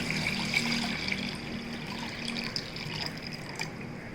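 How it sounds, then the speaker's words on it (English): Water pours and splashes steadily into an electric kettle being filled to about half for boiling eggs, a close, continuous liquid rush with bright gurgling and no talking. "So we are going to add water"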